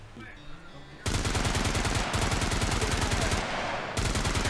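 Rapid automatic gunfire from the survival video game SCUM, loud, sustained bursts of fast shots filling most of the clip after a quieter opening.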